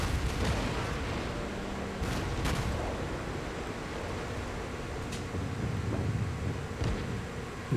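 Anti-aircraft guns of the cruiser Baltimore firing in World of Warships, with a steady drumming of repeated shots and occasional sharper cracks over a constant rush of sea and battle noise.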